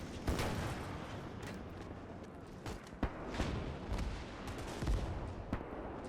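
Distant battlefield fire in the Gates of Hell war game, with a Panzerschreck rocket launcher among it: a steady rumble of gunshots and booms with occasional sharper reports, fairly faint and continuous.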